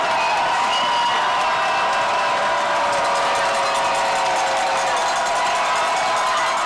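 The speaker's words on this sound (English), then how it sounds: "Faithful getting excited here. Most of the crowd on their feet." A football crowd on their feet at a high school playoff game roars with steady, dense cheering and shouting, loud and continuous throughout, with some voices audible in the mix.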